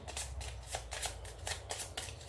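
Cards for The Grimm Forest board game being shuffled by hand, a soft, close series of quick riffling and slapping bursts in a steady rhythm.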